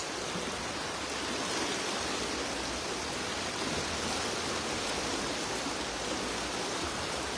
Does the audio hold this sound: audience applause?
no